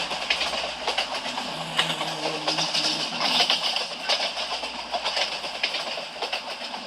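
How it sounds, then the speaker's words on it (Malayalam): Passenger train running on rails in India, a steady close rumble with rhythmic clickety-clack of wheels over rail joints throughout, no speech. "കാണാനുള്ള ചേലുള്ള ട്രെയിനാണ്."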